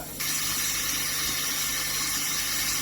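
Water poured from a spoon into flour for a beef mince stroganoff pasta dough, a steady close hiss and trickle running for a few seconds without talking.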